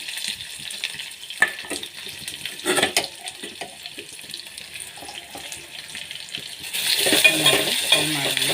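Onion, mustard seeds and curry leaves fry in two spoons of oil for a tempering, a soft crackle with occasional stirring knocks that swells into louder, rushing sizzling near the end.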